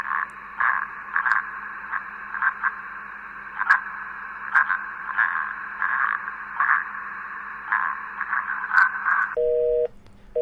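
A phone call in the video game The Letter is disconnected: a steady crackling, radio-like line hiss with faint pulsing runs for about nine seconds, then a short beeping busy tone sounds at the end.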